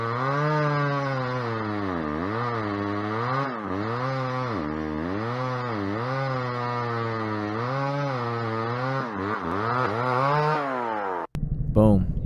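A chainsaw engine roars continuously while cutting through wood, its pitch dipping and rising repeatedly as the saw bogs and recovers in the cut, loud and close, ending with a sharp jolt.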